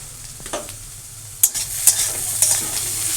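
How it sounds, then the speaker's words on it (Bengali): Mushrooms fry over a medium flame in a wok while being stirred, giving a steady sizzle broken by several sharp scraping clicks of the utensil against the pan. "কড়াইতে সময় দিয়ে নাড়াচাড়া করতে হবে।"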